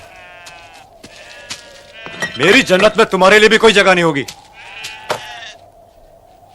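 A sheep bleats loudly and close by in one long, wavering call in the middle, with someone speaking before and after it.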